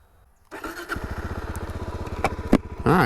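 A Suzuki DRZ400S motorcycle fires up after a short quiet start and runs with a rapid, pulsing single-cylinder thump, close and loud, with a few sharp mechanical clicks and a rising rev at the end.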